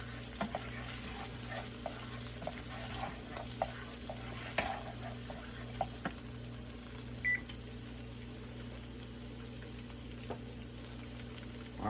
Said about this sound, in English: So we're gonna give these bad boys some nice saute and some butter.